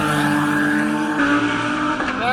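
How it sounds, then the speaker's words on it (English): Loud, steady roar of GT3 race car engines at the Vallelunga circuit, with layered high whines that build and shift as the cars draw closer. "You can hear the cars coming."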